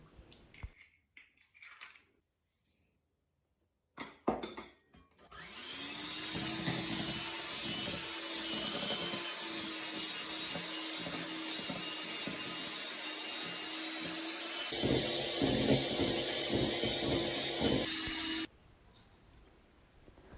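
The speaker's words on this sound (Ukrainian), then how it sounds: "Два яйця, щіпочка солі, стакан цукру. Все збиваю." An electric mixer beats eggs, salt and sugar for an apple pie batter. After some light clatter, the motor starts with a rising whir, holds a loud, steady drone for about thirteen seconds, then cuts off abruptly.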